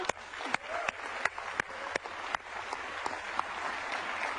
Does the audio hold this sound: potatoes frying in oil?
no